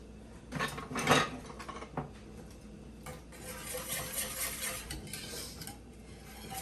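Spoon stirring marinade for marinated mushrooms in a pot, soft scraping and clinking strokes, a louder clatter early on, then a quieter swishing stir, close and faint with no talk.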